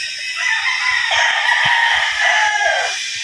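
A Sweater gamefowl rooster crows once in a long, strained call of about two seconds, rising and then trailing off, close and loud in an outdoor pen with faint background noise.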